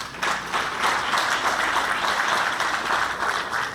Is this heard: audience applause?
yes